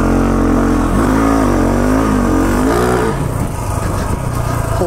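A KTM 690 Enduro dual-sport motorcycle fitted with a knobby tire revs on semi-frozen snow, its loud single-cylinder engine rising and falling in pitch through repeated throttle blips, close and continuous.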